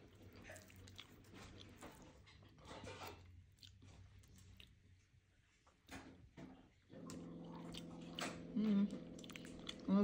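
Close, wet chewing of nihari eaten with naan, with soft repeated bites and squishes and voices talking nearby.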